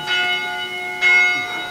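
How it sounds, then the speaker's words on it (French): A 251-year-old church bell dating from 1771 rings twice at an Acadian festival flag-raising, each clear strike leaving a long shimmering hum, loud and alone. "Cette cloche date de 251 ans."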